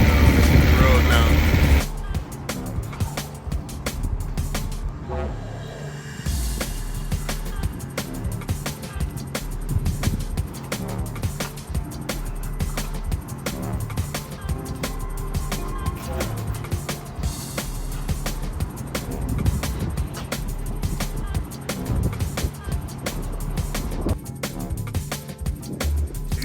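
A BMW motorcycle on its stock exhaust rides along the road, giving a continuous engine drone mixed with wind roar that stays fairly loud and even throughout.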